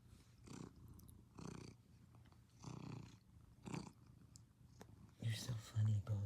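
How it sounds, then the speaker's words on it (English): Boji the cat purrs close up in soft rhythmic pulses, with a faint whispery voice and a few louder rustling bumps near the end. "Listen to you purr."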